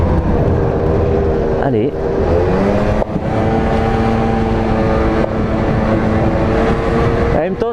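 A Peugeot Ludix pizza-delivery scooter rides along with its small engine droning steadily and loudly throughout, mixed with wind rush, while a rider talks over it.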